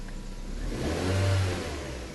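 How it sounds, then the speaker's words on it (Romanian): A car engine at idle climbs into a smooth rev and sustains it, a low steady drone swelling to a peak midway before easing slightly, with no talk. "Creșterea turației motorului duce la o creștere"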